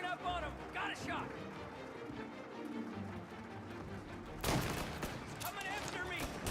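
Gunfire in a Mafia crime game, a flurry of sharp cracks amid shouting voices and chaotic action, with a loud burst of shots near the end.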